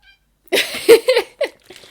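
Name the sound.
cat meowing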